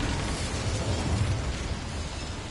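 A fiery burst from the Incendio spell in the video game Hogwarts Legacy, a dense, roaring whoosh holding steady for a couple of seconds, with no talking.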